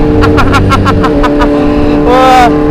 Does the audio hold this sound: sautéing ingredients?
no